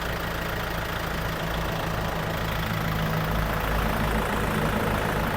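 Steady, even idle of a Kubota MU4902 tractor diesel engine, close and constant with a low rhythmic throb and no voices.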